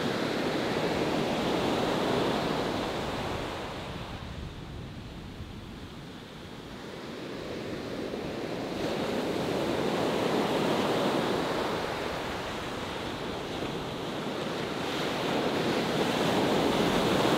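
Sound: ocean waves and wind at Huntington dog beach

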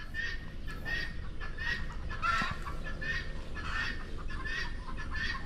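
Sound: noisy bengala fowl calling

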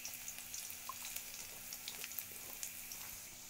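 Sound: cumin, garlic and mustard seeds sizzling in hot oil

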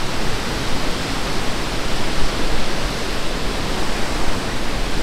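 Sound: waterfall

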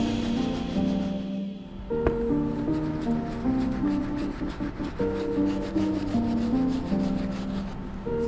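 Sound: soft bristle brush scrubbing Air Jordan 1 leather upper

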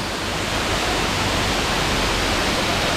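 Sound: waterfall

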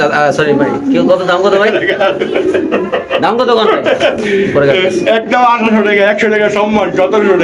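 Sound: black King pigeons cooing

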